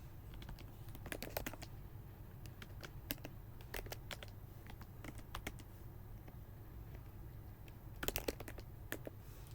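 Code being typed on a computer keyboard, with quiet, close key clicks arriving in short bursts and brief pauses between them over a low steady hum.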